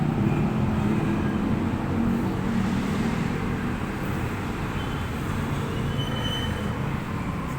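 An industrial fan motor running at speed 3, a steady, fairly loud whirring hum with broadband air rush that holds constant throughout, with no talking.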